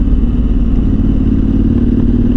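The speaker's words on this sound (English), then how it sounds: "this is a bike. This is how it rides and how it feels." A KTM 1290 Super Adventure R motorcycle on the move, its engine droning loud and steady with a low throbbing rumble and faint mechanical clatter, close and continuous.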